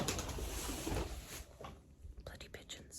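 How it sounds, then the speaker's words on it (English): Pigeons coo beside a field where muck is being spread, soft bird calls and rustling mixed under a low whispery voice and fluctuating background noise. "bloody pigeons"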